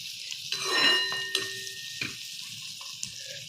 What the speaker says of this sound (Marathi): आता कांदा मऊ होतोय